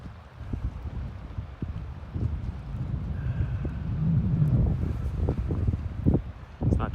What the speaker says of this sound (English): There is a storm just raging out there.